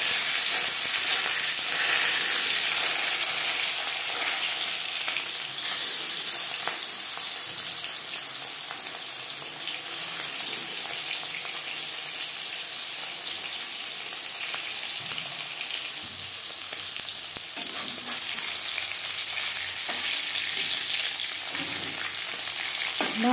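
Marinated tuna fish sizzles in hot refined oil in a pan, a continuous bright frying hiss that stays fairly steady, with occasional soft clinks and stirring, no voices.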